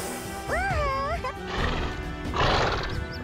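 A horse in the Kingdom Under Fire 2 video game gives a loud, close whinny with a rising and falling pitch, followed by hoof clatter and heavy impact noises.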